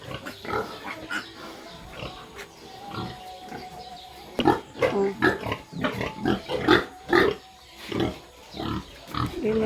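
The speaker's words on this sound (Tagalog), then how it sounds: "Dod ako diri sa gitang tangkalan ka baboy." Pigs grunt and snort close by in a pig pen, a series of irregular, loud bursts that grow busier and more frequent partway through, over faint background noise.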